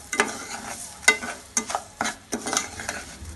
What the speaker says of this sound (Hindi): इसको मिक्स कर लेंगे।